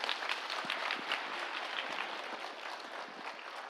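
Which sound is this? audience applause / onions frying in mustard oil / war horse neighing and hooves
audience applause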